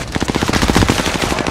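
Rapid automatic gunfire in a multiplayer shooter video game, a fast continuous burst of close, sharp shots.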